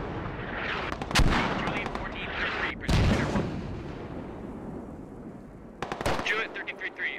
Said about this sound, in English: Mortars are walking closer